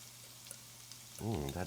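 Sun-dried tomato puree sizzling in a hot pan, a steady soft frying hiss for a moment before a voice speaks over the end.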